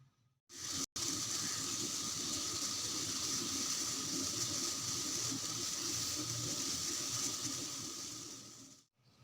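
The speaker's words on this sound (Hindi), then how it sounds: "इसको बॉयल करते हैं अब" Water with nigella seeds coming to a boil in a pot, a steady broad hiss and bubbling roar that runs unbroken for several seconds after a brief gap at the start, then fades out.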